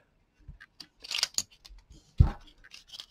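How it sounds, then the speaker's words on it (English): A cutter is pressed down to snip Panasonic double edge splice tape on 32 millimeter tape, producing a few close, crisp snipping and scraping clicks in otherwise quiet surroundings. "You push down and cut the tape."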